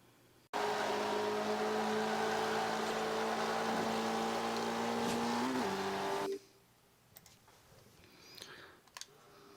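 Race car from the C class of Forza Motorsport 5 speeding through laps, a loud steady engine whine with rising and shifting pitch held for about six seconds, then cutting to quieter background clicks.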